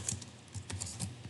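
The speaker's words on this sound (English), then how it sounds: "and then we'll type" Quick, soft clicks of typing on a computer keyboard, a steady close patter of keystrokes over faint room noise, without speech.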